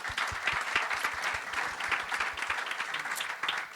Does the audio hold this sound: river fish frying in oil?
no